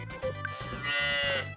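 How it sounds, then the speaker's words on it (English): A cow in the farming game Story of Seasons: Friends of Mineral Town gives a drawn-out, strained moo over looping background music, the low call swelling and sagging across the whole short stretch. "Why'd you sound like you're in pain, cow?"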